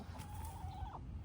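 Backyard chickens outdoors make a faint, brief clucking call, one drawn-out, wavering note, over a low background rumble.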